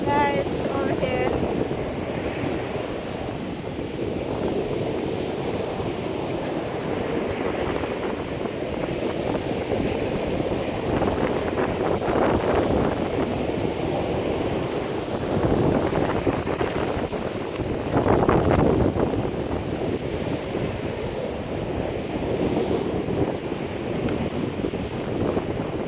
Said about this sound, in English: It's just guys, just like super windy.